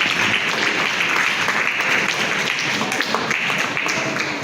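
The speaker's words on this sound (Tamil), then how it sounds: "கைத்தட்டுங்கோ." Steady, loud applause fills the hall at a veena marathon concert, with many hands clapping continuously for the whole stretch.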